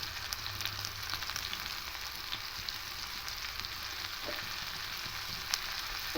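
Diced potatoes with turmeric, salt and sugar fry lightly in a pan while cooking a vegetarian mung posto dish, giving a steady, close hiss with faint scattered crackles and no talking.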